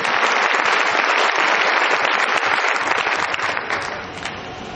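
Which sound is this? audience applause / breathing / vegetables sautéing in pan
audience applause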